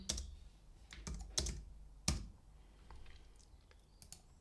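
Typing on a computer keyboard while building a list in ProtoPie, a handful of close, sharp key clicks spaced irregularly with brief pauses between them.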